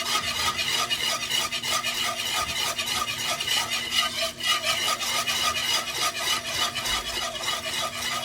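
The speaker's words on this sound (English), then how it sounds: "I like to keep whisking this in the beginning." A whisk scrapes steadily around a pot of flour and oil roux at the start of browning, a continuous close rasping and stirring with no talk.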